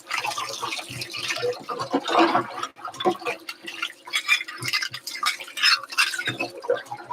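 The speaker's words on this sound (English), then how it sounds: "I just rinse it off till I don't feel the residue anymore" Espresso machine basket rinsed under a running tap, a steady rush of water with scrubbing and clinking as the metal basket is handled, close and fairly loud with no talking.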